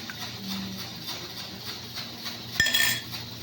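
Chicken karahi in a cooking pot as yogurt goes in, with a few close utensil clinks and scrapes against the metal pot and one sharper knock near the end, over a low steady background.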